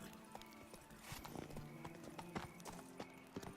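Roach the horse trotting in The Witcher 3: Blood and Wine, hooves clip-clopping in a quick, uneven beat close by, with a brief whinny and faint game ambience around it.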